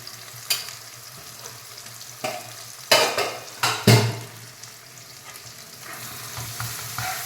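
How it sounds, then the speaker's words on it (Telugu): A tomato, onion, chilli and garlic paste with turmeric being stirred and fried in a pan, with a soft, steady sizzle and several sharp scrapes and knocks of the spoon, heard up close. "పసుపును బాగా తిరువాతలో కలిపి బాగా మగ్గనిద్దాం"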